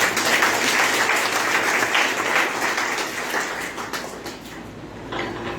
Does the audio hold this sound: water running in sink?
no